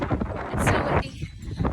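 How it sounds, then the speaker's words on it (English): Strong outdoor wind buffeting the microphone in loud, uneven rumbling gusts that fill the short stretch. "It's so windy."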